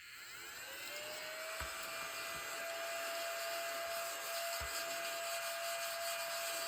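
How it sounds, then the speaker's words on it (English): A household vacuum cleaner that needs emptying runs in a steady whine and roar with a sustained tone, with a couple of soft thumps in the background. "I think my vacuum needs to be emptied."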